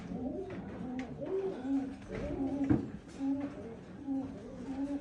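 Football-shaped fancy pigeons, males and females including indigo and checker birds, coo repeatedly in steady, low rolling phrases close by, the calls overlapping through the whole stretch over faint background noise.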